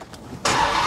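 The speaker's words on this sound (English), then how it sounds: "So I'm going to start the truck." The V8 engine of a 2021 Ram TRX pickup truck cranks briefly and fires, then settles into a loud, steady rumble close by.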